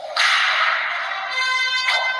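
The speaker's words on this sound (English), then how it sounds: "It's called the Pocket Whip. Pocket Whip. And there's different sounds on that one, too. You can just have your general whip." Whip crack from the Pocket Whip phone app, a single bright synthetic swish and snap ringing out loud for a couple of seconds, with a faint second accent near the end and no speech.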